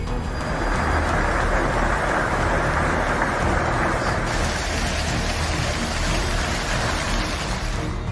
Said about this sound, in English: the weather quickly turned into a vicious thunderstorm late on Friday afternoon